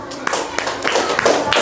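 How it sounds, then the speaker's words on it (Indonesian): Classroom applause with scattered hand claps in an Indonesian school group session, a few sharp claps over a busy room murmur of voices. "Oke, kita berikan tepuk tangan."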